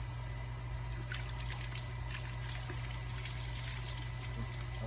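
Well water pouring and trickling at a farm well, a steady splashing flow with a constant low hum beneath, continuous and fairly faint throughout.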